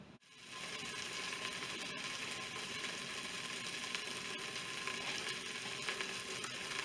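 Beef browns in a pressure cooker pot for stroganoff, a steady, even sizzle and crackle of searing meat holding at moderate loudness, with a brief clank at the start and no talking.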